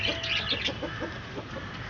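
Several roosters of native country chicken breed kept on a rooftop in Chennai give short, repeated clucks and murmurs, close by and fairly loud, with steady background noise.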